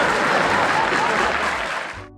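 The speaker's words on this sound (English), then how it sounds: "I'm glad they were clapping, so I knew to find this funny" Studio audience applause during a Family Guy episode, a dense steady wash of clapping that holds for about two seconds and then cuts off abruptly.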